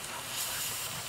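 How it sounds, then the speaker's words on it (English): Steam hisses steadily from a warm kettle, a constant broadband rush that swells slightly midway and stays fairly close and even throughout, with no voices. "Well, the steam just started coming out."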